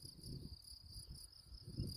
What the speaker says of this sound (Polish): No jest tutaj mnóstwo pszczół